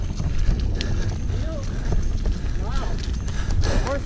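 Horses trot outdoors, their rhythmic clip-clop of hooves steady and fairly close under wind buffeting, while people whoop and call out over the top.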